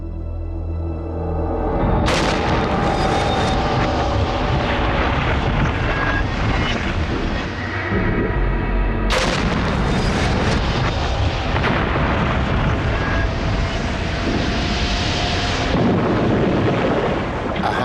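A pressurized model airliner fuselage ruptured on purpose in a pressure chamber, producing two sudden loud bursts of roaring, rushing air, each sustained for several seconds, with someone speaking over it.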